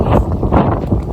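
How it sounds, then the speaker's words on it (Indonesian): Strong wind roars steadily and loudly across the microphone on a mountain trail on Merbabu via Gancik, a dense, continuous gusting rush with no voices. "kalian pasti udah dengar suara-suara angin karena ini sangat kencang sekali anginnya"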